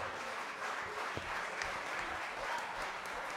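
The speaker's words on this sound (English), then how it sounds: "Big round of applause for the Del Valley Silver people." Distant, fairly quiet audience applause at the Porcfest 2011 Soap Box Idol event, a steady wash of many hands clapping with no voices standing out.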